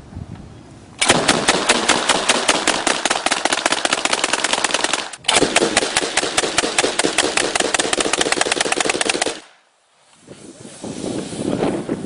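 Two AA-12 automatic shotguns fire outdoors in long, rapid, continuous bursts, loud and sharp, with a brief pause midway and then a near-silent gap before more noise.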